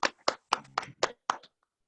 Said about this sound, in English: maybe we can all give Luke a clap